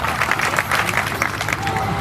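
An audience at a Gondi community gathering applauds in a dense, continuous burst of clapping from a crowd, loud and sustained through the whole short moment.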